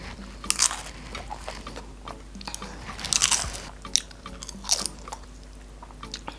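Close, crisp crunching and biting of cheesy nachos, some chips soggy and others crispy, with several loud bursts of crunch and softer chewing in between and no talking.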